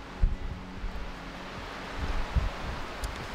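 Strong night wind blowing through a forest during a storm, a low, gusting rush with rustling that surges and fades, including two brief buffeting thumps, with no voices.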